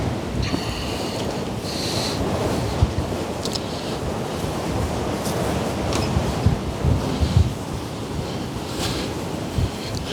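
Steady wind buffeting a microphone outdoors on a farm, a continuous broadband roar with gusty swells and brief louder bumps, no talking.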